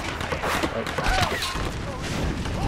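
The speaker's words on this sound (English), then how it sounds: "Yeah, explosion." An explosion in the Tomb Raider video game makes a dense, rumbling blast with crackling, gunfire-like bursts that hold steady and loud throughout, while voices are faintly mixed in underneath.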